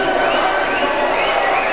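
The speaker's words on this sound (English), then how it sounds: "that cheer of the crowd, the little roar" A basketball arena crowd roars and cheers after a missed free throw, a loud, steady wash of many voices with whoops, sustained without a break.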